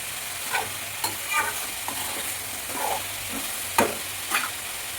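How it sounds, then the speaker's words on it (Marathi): Bottle gourd curry stirred in a pan, a steady soft frying sizzle broken by a few scraping spoon strokes and light knocks against the pan, close and without talk. "आता आपल्याला हे चांगले एकत्र मिक्स करून त्याच्यामध्ये मीठ टाकायचं आहे."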